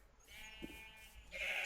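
Sheep in a Minecraft-style video game give a couple of short bleats at low volume. The second bleat is a bit brighter, and there is no talk over them.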